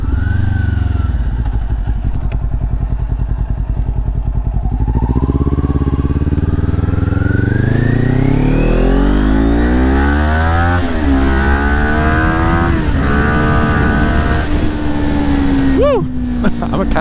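A quick, nimble motorcycle with GP-shift pattern revs and accelerates hard through rising gears, its loud engine close and continuous with wind noise, while a rider's voice comes through over it.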